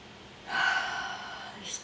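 A deep, slow in-breath drawn in during a calm guided relaxation, a soft airy rush swelling and then trailing off, heard alone and close.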